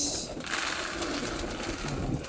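Breeder hen pigeons coo close by in low, soft, rolling calls over faint background rustle, with no clear talking.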